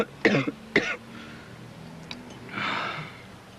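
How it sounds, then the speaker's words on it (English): Two sharp close coughs in quick succession, followed by quiet breathing and a long exhaled breath. "Goddamn cough's back."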